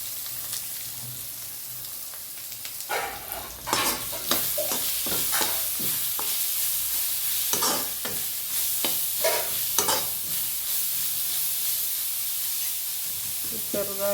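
Crushed garlic and ginger sizzling with coconut in a hot pan for chicken curry, a continuous near hiss punctuated by frequent stirring scrapes and sharp spattering bursts, with no talk over it.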